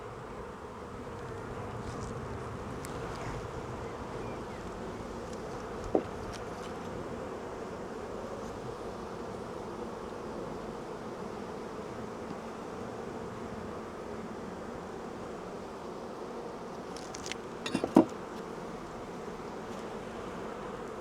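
Honey bees buzzing steadily over a hive frame holding brood, pollen, capped and uncapped honey and nectar, a continuous close hum with a couple of brief knocks.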